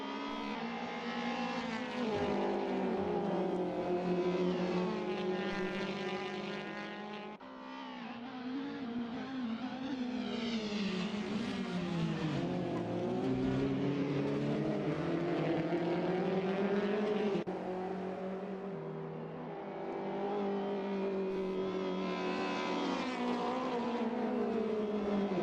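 Touring race cars, an Audi and an Alfa among them, running side by side at Sonoma Raceway, engines loud and close with steady high revs that dip and climb through gear changes and corners, no talk over them.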